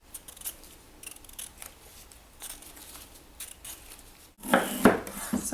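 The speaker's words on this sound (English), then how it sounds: "I'm just going to start by cutting the ends off." A knife trims the ends off a fresh beet on a cutting board, a few soft cuts followed by a louder burst of sharp, crisp chops and clicks near the end.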